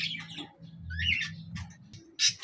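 Lovebirds chirp and squawk in quick, high bursts, close by, with a low rumbling background underneath.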